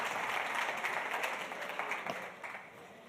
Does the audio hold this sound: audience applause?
yes